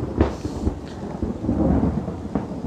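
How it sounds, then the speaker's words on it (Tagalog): Steady rain during a thunderstorm, with low rumbling thunder rolling under the constant hiss of falling water and no voices. "ulan na."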